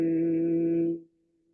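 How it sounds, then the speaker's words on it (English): A steady hummed tone through closed lips during a gentle breathwork exercise, held for about a second before trailing off softly, close and alone. "we hum through the lips."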